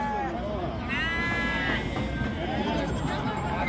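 At a livestock market in Ganja, a sheep lets out a couple of wavering bleats close by, carried over steady crowd noise and nearby talking.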